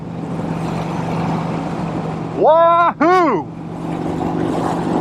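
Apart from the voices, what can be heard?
motorcycle engine while riding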